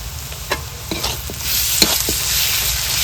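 Ginger-garlic paste and whole garlic cloves fry loudly in hot oil for a Bengali meat curry with seasonal vegetables, the sizzle swelling as a spatula stirs with several distinct scraping strokes.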